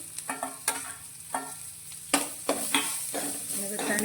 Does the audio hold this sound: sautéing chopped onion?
yes